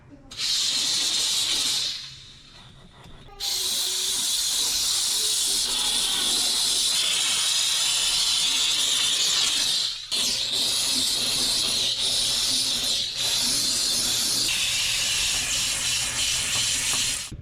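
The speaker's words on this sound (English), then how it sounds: "steam works really well on stoves" Loud, steady hissing of a steam cleaner's jet on a stove, cutting out briefly twice before resuming, with faint talk at moments.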